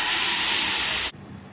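Spices, onion, ginger, garlic and turmeric sizzling hard in a hot pan for biryani, a loud, steady hiss that cuts off abruptly, leaving quiet background.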